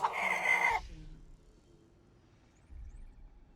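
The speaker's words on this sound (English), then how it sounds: "Cluck cluck. Someone has just joined the Bok Bok Brigade." A short chicken clucking alert plays for new stream followers, a brief burst of close clucks lasting under a second, then quiet with low background rumble.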